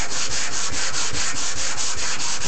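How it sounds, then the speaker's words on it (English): Hand sanding a wood surface with 150 grit sandpaper makes a loud, close, rhythmic scratching, the back-and-forth strokes repeating evenly about five times a second, with no speech. "I'll give another quick sand."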